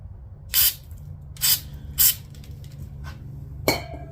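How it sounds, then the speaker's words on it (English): Short hissing bursts of brake cleaner aerosol blasting debris out of a freshly drilled hole during a B18 Honda Civic engine rebuild, four separate sprays with a quiet pause between each, close to the mic. "Let me get some brake clean and I'll clean that debris out of there quick."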